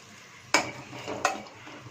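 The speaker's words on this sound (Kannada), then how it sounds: "ಉಳ್ಳಾಗಡ್ಡಿನ ಹಿಂಗೆ ಪೀಸ್ ಪೀಸ್ ಕಟ್ ಮಾಡಿ ಹುರ್ಕೋಬೇಕ್ರಿ" Onion pieces frying in a pan and being stirred, with two sharp scraping stirs over a steady soft sizzle, close and fairly quiet with no talking.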